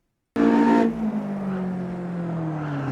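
Caterham Supersport braking hard on the Curitiba circuit, tires briefly locking. A loud burst of engine and tire noise starts abruptly, then settles into a steady engine drone that falls in pitch as the car slows.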